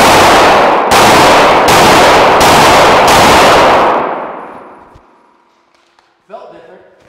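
Handgun fired with live rounds: five loud, evenly spaced sharp shots in quick succession, each ringing into the next, then a long decaying echo; a voice begins speaking faintly near the end.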